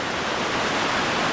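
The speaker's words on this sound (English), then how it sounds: "That's some moving water." Rushing water of the Cut River surging through a deep gorge below a bridge, a steady broadband roar heard close and loud throughout with no voices over it.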